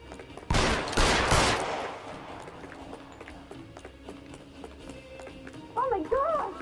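Gunfire in the video game L.A. Noire, a loud burst of rapid shots near the start, then quieter game ambience with faint scattered noises and a voice near the end.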